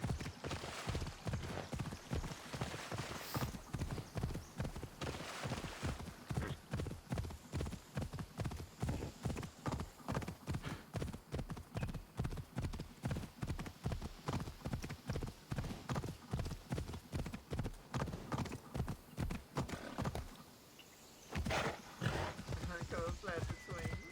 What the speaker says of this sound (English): Come, Pegasus! Hurry up, horse.